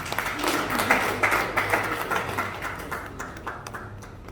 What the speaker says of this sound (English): Let's clap for Marcella.